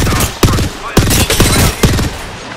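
Gunfire in the video game Apex Legends: rapid automatic bursts with several sharp, loud cracks spaced irregularly over a few seconds, close and punchy.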